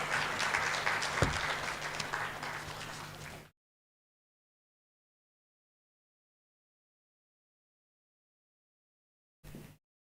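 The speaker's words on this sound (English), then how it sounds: "Round of applause again, please, to Dr." An audience applauds after a presentation at an economic reform event, a close, full burst of clapping that stops abruptly after a few seconds, followed by silence and a short final flicker of claps.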